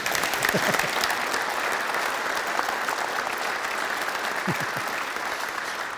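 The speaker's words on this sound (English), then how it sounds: "And I think that deserves a round of applause" A round of applause from an audience at a motor racing gathering, dense and steady throughout, close and loud with no pauses and occasional faint voices mixed in.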